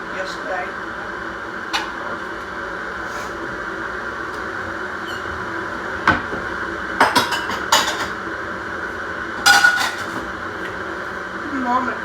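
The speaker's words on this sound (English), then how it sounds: "now I'm going to clean up my dishes" Dishes being cleaned up after cooking at home, with occasional sharp clinks and clatters of plates and cutlery over a steady background hum, some clustered knocks in the second half.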